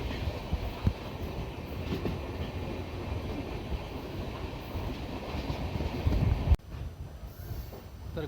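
Mumbai–Madgaon JanShatabdi Express rumbling steadily through a long tunnel, a dense continuous roar of wheels and rail noise that cuts off abruptly near the end.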